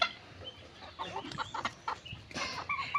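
Several large roosters cluck and squawk in short, irregular bursts, fairly close, with no talking.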